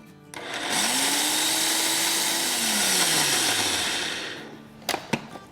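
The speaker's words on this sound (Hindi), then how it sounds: "और इसको थोड़ा सा ग्राइंड कर लेंगे, यानी थोड़ा बहुत पिस्ते का टेक्सचर आना चाहिए" Electric grinder blending pistachios for a summer dessert, a loud continuous whirring roar with a pitch that sweeps as the nuts break down, lasting about four seconds before stopping, followed by a few light clacks.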